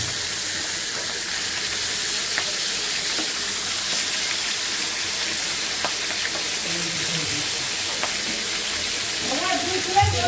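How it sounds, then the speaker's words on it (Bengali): Onion frying for a curry gives a constant loud hiss throughout, with faint clicks and a brief voice near the end. "তরকারি চুলায় দিব, তার জন্য পেঁয়াজটা ভেজে নিচ্ছি।"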